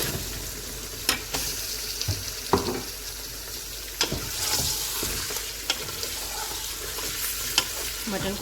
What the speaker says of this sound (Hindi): मटन को हम इसी तरह से अब भूनते रहेंगे जब तक इसका अपना पानी ना ड्राई हो जाए।